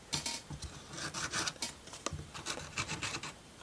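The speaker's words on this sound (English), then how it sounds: "those sticking up like that, I'm gonna sand" Sandpaper rubs over wooden pieces of a ROKR Marble Climber marble run, giving short, close, raspy strokes in quick irregular bursts, quiet and without talk.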